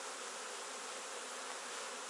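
A dense, even swarm hum from honeybees at a hive during an August colony inspection, faint and steady with no pauses, and nobody talking.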